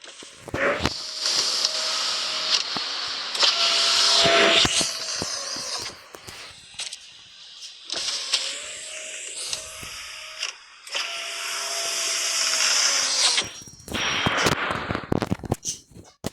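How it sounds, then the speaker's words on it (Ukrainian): A minibus door in a car simulator video game opens and closes repeatedly with whirring mechanical motor sounds and clunks, loud and close, with short pauses between cycles. "хочу, аби ви почули, який звук у цих дверцяток"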